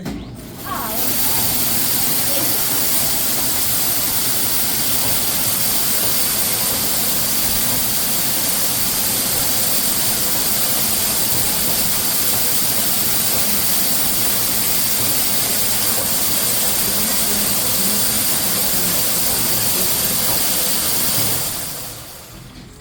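A large historic mill machine at Old Slater Mill roars steadily with a dense, hissing, engine-like drone that holds constant for about twenty seconds before cutting off.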